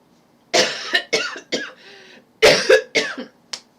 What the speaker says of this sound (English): I'm still getting over a cold, y'all, so excuse all the coughing.